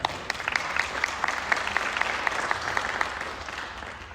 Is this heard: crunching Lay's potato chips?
no